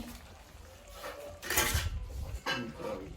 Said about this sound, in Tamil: ஓகே முட்டையை வெட்டுறாங்க